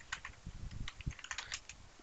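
A computer keyboard clicks with rapid, uneven keystrokes as a password is typed, quiet and close with no voices over it.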